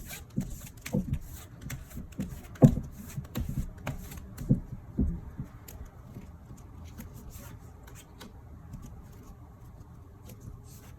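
Tarot cards are shuffled and drawn in a quiet room, giving soft, irregular rustling and light slapping taps. One sharper snap stands out early, then the sound thins into faint fluttering, with no talk.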